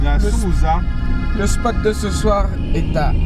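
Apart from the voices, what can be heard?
No everyday noises stand out.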